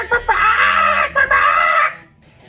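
A chicken sound effect sits on an animation timeline: a couple of short clucks lead into a drawn-out, crowing-like squawk, loud and close, then it cuts off into near silence.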